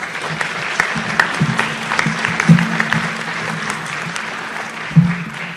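Audience at a spring commencement ceremony for business degree candidates breaks into sustained applause, a steady wash of many clapping hands with a few sharper claps standing out, filling a large hall.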